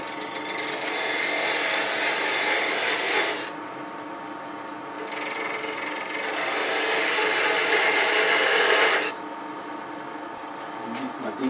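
Wood lathe turning a replacement tool handle, an eighth-inch tool taking down a fillet on each side; two long scraping, rasping cutting passes with a short pause between them, close and fairly loud.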